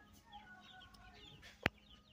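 Meat chickens cluck faintly in a farm setting, soft scattered calls with one sharp, louder click-like sound near the end.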